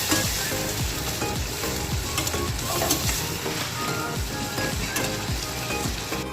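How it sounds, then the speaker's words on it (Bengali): Peas and a potato fry lightly in a pan for a Bengali cabbage ghonto, a constant crackling sizzle punctuated by frequent clacking stirs of a spatula, close and fairly loud with no talking. "মটরশুঁটি আর আলুটাকে আমি হালকা ভাজা ভাজা করে নেব।"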